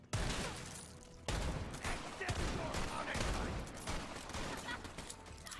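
Rapid gunfire in the shooter Borderlands 3, several loud close shots in quick succession with sharp attacks and a dense, chaotic game mix around them.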